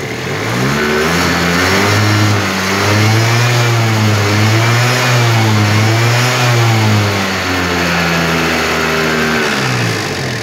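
A two-stroke scooter engine runs unevenly with a smoking exhaust, its loud close buzz rising and falling in pitch through rough, wavering revs with no steady idle and no voices.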